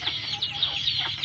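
Several offspring of an F2 jungle fowl crossed with a village chicken of starling colouring keep up continuous nearby clucking, a busy run of short bright calls overlapping at an even level, with no voices heard.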